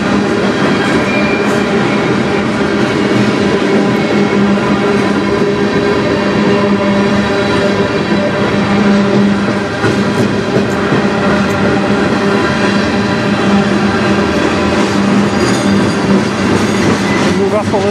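A CN freight train with a distributed power locomotive rolls past on the Strathroy Subdivision, a loud, steady rumble of wagons and wheels sustained throughout at close range.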